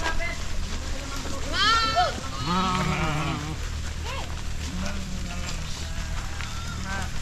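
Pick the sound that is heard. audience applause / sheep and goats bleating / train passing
sheep and goats bleating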